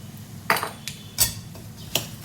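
A spoon scrapes and clinks against a metal pan while turmeric, salt and powdered sugar are mixed in for makhana chivda, making three or four sharp, separate metallic knocks over a low background hum.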